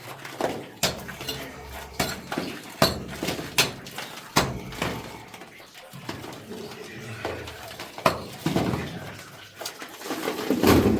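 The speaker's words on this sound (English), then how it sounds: "Boys chipping away some samples." Hand tools chipping samples from a heavily mineralized quartz vein inside an old gold mine: sharp metallic clinks and taps in irregular bursts, fairly close, with no talking.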